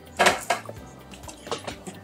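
Dried shrimp and salt being crushed in a cooking pot with oil, a few sharp scraping and knocking strikes against the pot, close and irregular.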